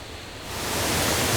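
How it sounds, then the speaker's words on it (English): A waterfall beside a river trail in Hokkaido, a steady broadband rush that swells louder partway through, close and continuous with no talking. "the sound of the waterfall is getting bigger and bigger"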